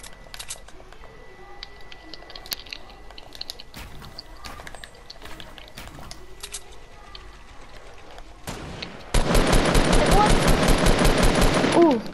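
Rapid automatic gunfire from a PlayStation 4 shooter game bursts in loud and dense near the end, after a stretch of quieter game ambience with scattered single shots and clicks; a player talks over the action.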